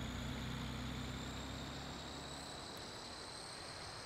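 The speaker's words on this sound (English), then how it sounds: "sound of this truck is not as loud as the Brute" A truck engine idles quietly inside the cab in Farming Simulator 19, a low, steady hum with a faint high whine above it, soft and continuous throughout.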